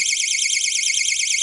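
A homemade airsoft sound mine's electronic alarm blares continuously, a loud, high, warbling siren-like tone pulsing rapidly and steadily on its own throughout.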